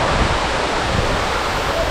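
Aagaya Gangai falls in the Kolli Hills pours down in a loud, dense, continuous roar of crashing water, recorded close up from beneath the cascade.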